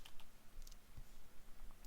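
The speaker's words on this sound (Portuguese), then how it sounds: "Eu vou digitar Express" Typing on a computer keyboard while entering an Express generator command, with soft, scattered keystrokes that are faint and close, alone without speech.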